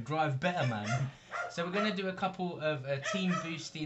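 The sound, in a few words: dogs barking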